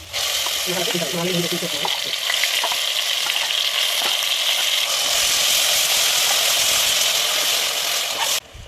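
Loud, steady sizzling of masala spices frying in a hot pan for kushka rice, with occasional clicks of stirring, continuing throughout.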